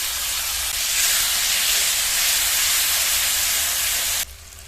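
Grated tomato tipped into hot oil and fried spices sets off a loud, steady sizzle that hisses strongly throughout, then drops off sharply near the end.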